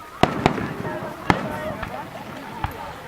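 Fireworks going off outdoors at a family celebration, sounding as several sharp, echoing bangs at irregular intervals, some distant and fainter, while people chat in the background.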